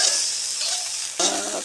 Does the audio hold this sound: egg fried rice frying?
yes